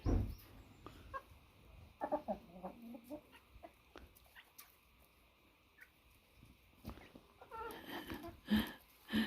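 Hens clucking softly at a distance outdoors, scattered short clucks with occasional louder calls near the end.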